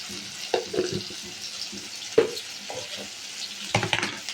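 Paneer and potato pieces frying in a pan, a soft steady sizzle with a few sharp stirring clatters and scrapes spaced through it.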